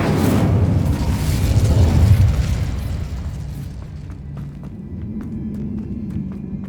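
A fire spell cast in a magic video game erupts as a loud whooshing burst of flame that swells for about two seconds, then fades into a softer crackling rumble with scattered small pops.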